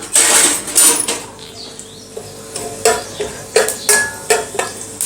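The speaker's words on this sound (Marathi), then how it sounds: "आता आपण यामध्ये खडे मसाले घालूयात खडे मसाले थोडेसे परतून घेऊयात" Whole spices sizzle and crackle as they sauté in very hot oil in a pan for a foxtail millet pulao, with sharp clinks of a spoon against the metal between bursts of frying.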